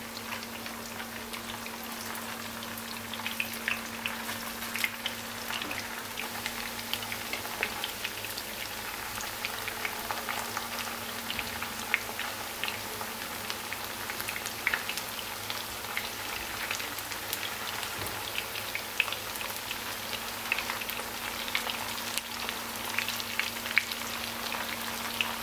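Potato and minced-meat meatballs fry in hot oil in a pan, a steady dense crackle and sizzle with small pops running continuously at close range.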